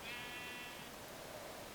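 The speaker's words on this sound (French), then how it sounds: "Il a mis un petit mouton soigneur pour Ant" Sheep bleating in the Minecraft SheepWars game, a single drawn-out, fairly faint bleat early on, set against a steady background hiss with no talking.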